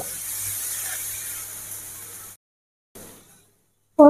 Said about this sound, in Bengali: এটি আরো 2-3 মিনিট খুব ভালো করে কষিয়ে নেব।